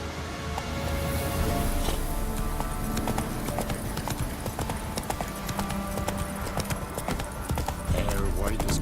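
Roach the horse trotting in The Witcher, hooves clip-clopping in a steady close rhythm beneath talking voices and music.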